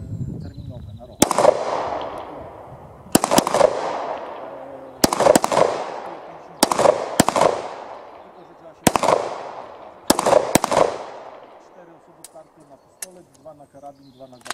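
Firearms discharge during shooting training at a range, with a loud single gunshot or tight double shot roughly every two seconds, each followed by a long echoing decay, with people talking in between.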